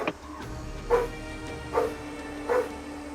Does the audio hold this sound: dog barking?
yes